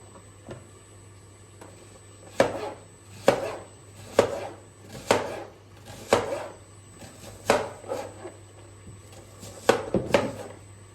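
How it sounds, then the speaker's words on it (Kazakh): A knife chops vegetables into rounds for maqluba, a Turkish dish: about nine crisp, evenly spaced thuds on a cutting board, close and clear, with no talking. "Енді мына овощтарымызды барлығын дөңгелектеп турап аламыз."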